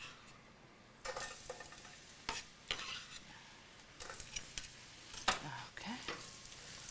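Sauce sizzling in a pan with a spoon stirring through it, for a pasta dish that will take anchovies packed in olive oil; a soft steady fry sits under repeated scraping strokes and a few clinks of the utensil, with no talk.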